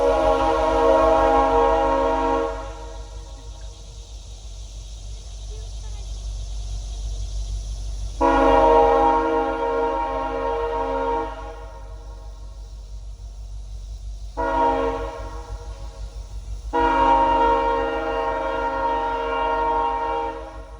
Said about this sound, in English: train's coming through, so it's hard to talk.